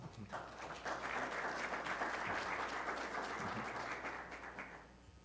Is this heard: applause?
yes